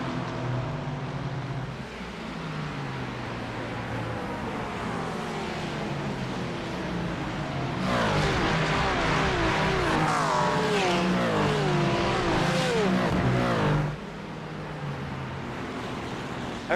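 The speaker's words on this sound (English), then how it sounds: "As we take a look here at the number 742 of Tobias there. That good looking Porsche." Engine of a Porsche race car in a racing video game, an endurance race at Watkins Glen, droning steadily throughout and swelling louder with rising, sweeping revs between roughly eight and fourteen seconds.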